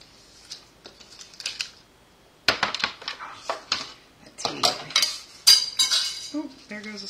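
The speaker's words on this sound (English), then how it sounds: "There goes a spoon." A spoon drops among metal cutlery, making a scattered run of sharp clinks and clatters that start quietly and then become louder and busier midway.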